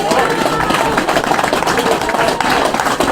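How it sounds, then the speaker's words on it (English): Rugby crowd applause for a player at the Hautapu vs Fraser Tech Waikato Premier men's final, a broad steady wash of clapping under a commentator's talk. "there's a big round of applause for the player comes up"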